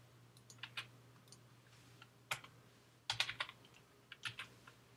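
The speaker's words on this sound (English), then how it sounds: "to add a pair of jeans, you just start typing in the barcode" Fingers type a barcode number on a computer keyboard, quiet scattered clicks in short bursts with pauses between, close and alone.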